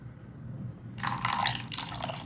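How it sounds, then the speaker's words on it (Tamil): Water poured into rava batter for uthappam, a short trickling splash starting about a second in after near-quiet, close and soft. "இன்னும் கொஞ்சம் கூட தண்ணி ஊற்றிக்கிறேன்."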